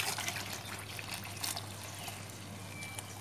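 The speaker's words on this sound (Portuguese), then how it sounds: "Agora nós vamos acrescentar 2 litros de água fervente." Boiling water, two litres, poured into a homemade liquid soap mixture made with vinegar and caustic soda, giving a steady, close trickling and splashing flow that continues evenly throughout.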